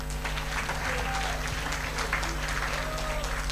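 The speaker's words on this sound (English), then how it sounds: "We can clap for that." An audience claps throughout at a medical camp closing ceremony, steady crowd applause with a brief voice heard within it.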